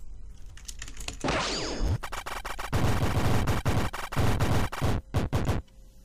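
Green dot hyper shot attack in the M.U.G.E.N fighting game, a dense run of rapid clattering, crackling hits and a sweeping zap, loud and close, ending in a few sharp separate pops.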